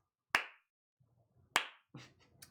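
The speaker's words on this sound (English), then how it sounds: "the slow clap" A single person starts a slow clap in a quiet room, two sharp, widely spaced claps with faint murmuring between them and a softer third clap at the end.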